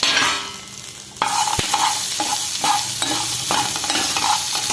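A spoon stirs cheesy corn in a pan, repeated scraping strokes in a loose rhythm over a steady close sizzle, loud and near with no talking.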